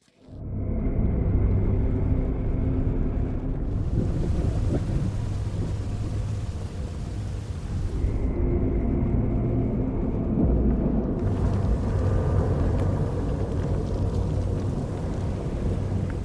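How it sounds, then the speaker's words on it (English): Starship engines fire up in Star Wars: The Old Republic, a loud continuous roaring rumble that surges and swells in waves, with no voices over it. "Firing up the engines."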